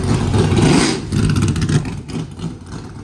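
A race car drives through the pits at a classic car event, its engine roaring loudly and close by before fading slightly as it passes, with no talking.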